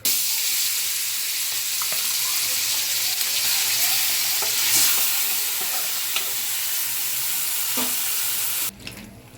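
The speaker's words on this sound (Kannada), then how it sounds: "ನಂತರ ಇದಕ್ಕೆ ಈಗ ಅರ್ಧ ಗಂಟೆ ಮ್ಯಾರಿನೇಟ್ ಆಗಿರುವ ಚಿಕನನ್ನು ಹಾಕ್ಕೊಂಡು 15ರಿಂದ 20 ನಿಮಿಷಗಳ ಕಾಲ ಇದನ್ನು ಬೇಯಿಸ್ಕೋಬೇಕಾಗುತ್ತೆ" Marinated chicken for a restaurant-style dum biryani sizzles and fries in oil in a pan, a steady close hiss with faint stirring clinks throughout, cutting off abruptly near the end.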